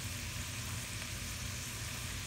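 Ingredients for a Kerala-style roasted-coconut chicken curry sautéing in a pan while stirred, a loud, dense, steady hiss of frying that carries evenly throughout without pauses or voices.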